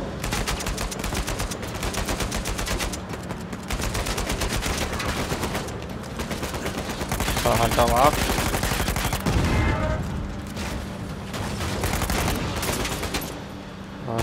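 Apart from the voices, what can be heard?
gunfire in the video game Uncharted 4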